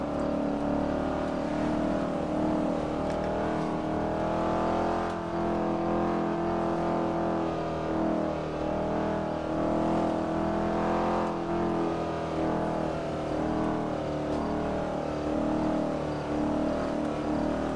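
A car in a video game roleplay driving hard, its engine droning and revving steadily at high load for a long stretch, loud and continuous with no talk over it.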